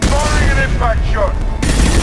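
Impact shot gunfire in the video game Mass Effect, a burst of heavy energy blasts with sharp zapping sweeps over a loud rumbling bed, then a sudden cutoff into a dull boom.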